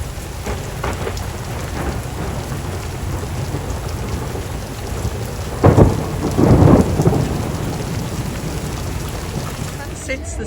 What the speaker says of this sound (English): It's a while since we've been in a thunderstorm while at anchor. but this woke us up, and yeah, it's pouring down.